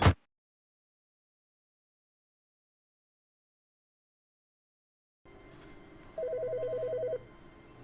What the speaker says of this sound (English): Oh, a phone.